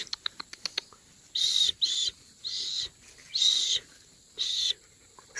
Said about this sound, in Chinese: 那里发现一窝小鸟